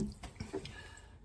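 Water drips and trickles off a soaked whetstone as it is lifted from its soak, a handful of soft, quick drips, quiet and close.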